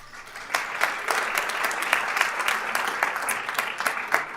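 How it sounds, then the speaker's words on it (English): Brief round of audience applause at a school district governing board awards and recognition ceremony, honoring a state runner-up student athlete; dense, steady clapping from a moderately sized crowd with no talk over it. "we also wanted to give David a quick round of applause"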